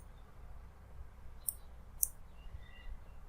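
Two quiet, sharp computer mouse clicks about half a second apart, close and faint against a low room hum, with no talking.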